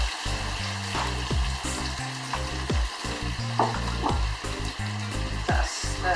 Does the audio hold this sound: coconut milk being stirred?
yes